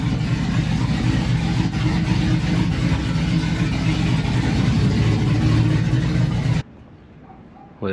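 A Chevrolet Silverado truck engine runs steadily close by with a rough, throbbing idle and slight rises in revs, then cuts off abruptly near the end into near quiet.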